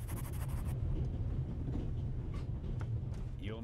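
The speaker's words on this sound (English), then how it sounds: "The noise on this train is driving me crazy." A train in The Raven Remastered game rumbles with a steady, low, continuous rolling noise and faint rhythmic clatter, with a brief voice at the end.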